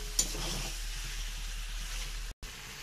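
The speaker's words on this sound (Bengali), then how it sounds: "এবারে দিয়ে দেব আদা রসুন বাটা, ভালো করে কষাবো।" Ginger garlic paste fries in hot oil for a chicken curry, a soft continuous sizzle heard close with a faint stir, cut off by a brief dropout near the end.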